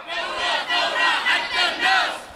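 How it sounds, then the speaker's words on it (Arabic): Crowd at a Bahrain revolution-anniversary rally chanting in unison, voices rising in four rhythmic surges, loud and massed. "ليعلو هتاف الواثقين إلى عنان السماء ثورة ثورة حتى النص"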